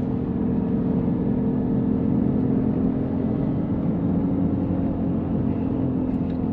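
A Subaru Liberty Spec B on coilovers gives off a steady, speed-related whine while driving, sitting in a constant low road and engine drone that holds even throughout.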